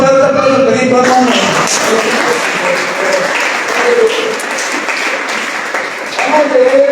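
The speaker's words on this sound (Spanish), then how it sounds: "Den un fuerte aplauso al Cristo" A church congregation gives loud, sustained applause filling the room, with voices calling out and talking over the clapping throughout.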